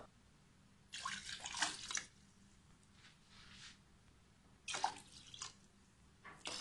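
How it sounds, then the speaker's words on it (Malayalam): Four cups of water poured into a pot for a homemade lemon all-purpose cleaner, splashing and trickling in two main bursts with quieter pouring between, close by and fairly faint, no voices. "ഇതിലേക്ക് നമുക്ക് ഇതിലൊരു നാല് കപ്പ് വെള്ളം ഒഴിച്ചു കൊടുക്കാം"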